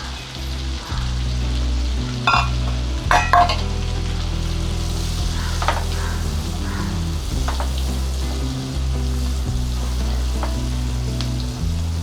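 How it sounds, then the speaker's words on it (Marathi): Chopped onion sautéing in melted butter in a pan, a continuous close sizzle with occasional crackles and stirring scrapes, with a steady low hum underneath. "कांदा थोडासा शिजवून घ्यायचा हलका गुलाबी होईपर्यंत आपल्याला कांदा परतून घ्यायचा आहे"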